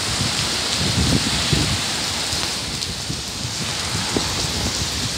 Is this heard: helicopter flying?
no